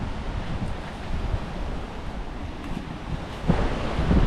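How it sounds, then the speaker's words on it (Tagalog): Sea waves wash onto the shore in a steady broadband roar, mixed with wind buffeting the microphone, swelling slightly louder near the end with no voices. "Ayan yung dagat, mga kabikulan na."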